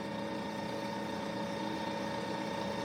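An Enerpac P142 hydraulic jack pump with a two-stage high-low motor of 2.5 and 5 horsepower runs with a steady, dense electric hum and whine, constant and close, with no talk over it.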